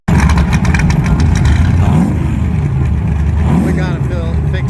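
Turbocharged drag racing car with a blow-through carburetor and a smoking turbo, making a pass at Kentucky Dragway: a loud, close engine rumble that rises and sweeps as it accelerates, with a voice talking over it.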